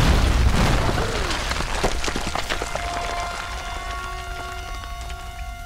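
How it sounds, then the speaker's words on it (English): A loud explosion from a grenade launcher in the Tomb Raider video game bursts at the start, then debris crackles and a ringing tone trail off as the blast fades. "Oh, that's a grenade launcher."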